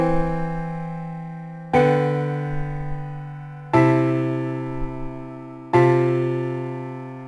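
Four sustained major and minor chords in open voicing ring out in turn, each struck about every two seconds and left to decay, with a low bass note under each.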